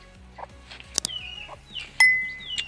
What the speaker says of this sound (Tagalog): May mga sisiw.